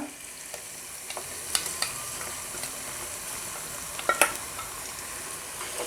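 Ginger garlic paste fries in a pan for sorrel-leaf (gongura) chicken, a continuous sizzle broken by scattered scrapes and taps of a spoon stirring against the pan.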